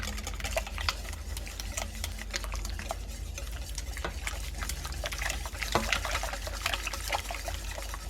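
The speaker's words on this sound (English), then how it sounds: "Gonna add 2 eggs, help it stick, you know. Yep. And then whisk." Two eggs being whisked into a spicy BBQ chicken burger mixture in a bowl, a steady wet stirring and clicking that continues close and evenly throughout.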